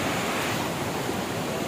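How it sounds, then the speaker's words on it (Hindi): A waterfall pours down with fast, forceful water rushing past, a dense, steady roar heard close and alone. "देखो यहाँ से वाटरफॉल गिर रहा है"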